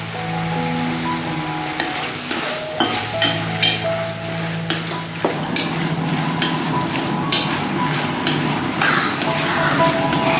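Instant noodles stir-fry with green vegetables in a wok. A steady sizzle and the scrape of stirring sound close by, growing denser once the greens go in.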